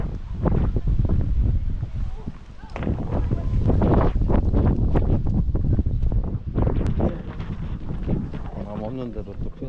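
Strong wind buffeting the microphone atop a hilltop castle in Salzburg, loud gusty roaring that rises and falls throughout while people talk over it.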